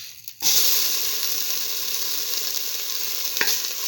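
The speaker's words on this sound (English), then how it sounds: "Put in the tomato pieces" Tomato pieces frying with shallots in a pan, a steady close sizzle that starts after a brief quiet moment and holds throughout, with a faint scrape of stirring near the end.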